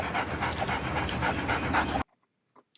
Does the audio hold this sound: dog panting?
yes